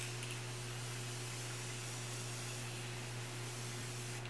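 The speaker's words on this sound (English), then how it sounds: "I'm going to use my Morphe Continuous Setting Mist" A steady, fine hiss of Morphe Continuous Setting Mist spraying continues without a break, fairly quiet and close, with a faint hum underneath and no talking.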